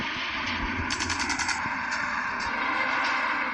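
Rapid machine-gun bursts fire in a war plane video game, a dense rattling stream of shots with a short brighter burst in the middle and no talk.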